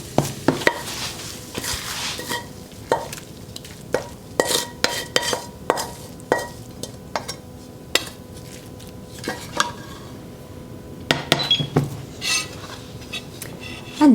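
A utensil scrapes and taps against a pan as a vegetable and egg hash is stirred, with irregular clinks and knocks over a faint sizzle.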